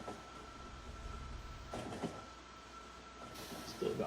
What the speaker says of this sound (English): Still got my trains going.